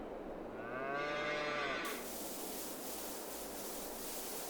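Cows in Farming Simulator 22 let out a long, low moo, then fall quiet against a soft, steady background wash.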